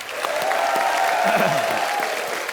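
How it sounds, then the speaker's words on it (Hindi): Audience applause on The Kapil Sharma Show, a televised comedy show: a dense, steady wash of clapping from a studio crowd that holds at an even level for the whole moment, with no speech. "एक बार राजू भाई के लिए जोरदार तालियां।"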